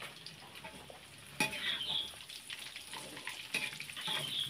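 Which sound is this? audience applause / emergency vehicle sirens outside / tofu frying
tofu frying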